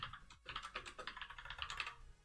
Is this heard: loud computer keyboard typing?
yes